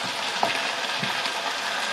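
Chicken empanada filling with tomato sauce and water sizzles and bubbles steadily in a frying pan, a close, continuous hiss with a few small pops and no voices.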